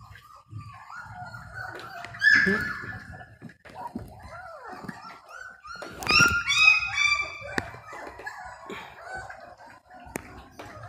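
A puppy whimpers and yelps in short high bursts around a rooster crowing and other farmyard fowl noises, with faint background sounds in between.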